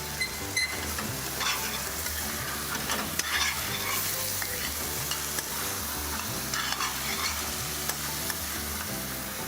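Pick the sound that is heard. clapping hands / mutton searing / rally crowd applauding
mutton searing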